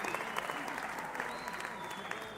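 Applause from a sound effect fills a live call-in stream: a continuous wash of many hands clapping at steady volume for a couple of seconds, with faint background tones and no speech on top.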